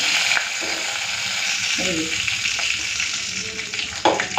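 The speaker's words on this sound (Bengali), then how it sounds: "সবকটা মাছ ভেজে নেব" Pomfret fish frying in hot oil in a pan, a steady close sizzle and crackle throughout with occasional scraping and stirring clinks.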